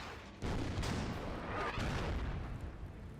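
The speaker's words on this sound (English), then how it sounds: "Go ahead and bombard it with our artillery." Artillery in a strategy war game bombards an armored unit, with a heavy boom setting off a loud, sustained rumble of barrage fire that lingers for a few seconds.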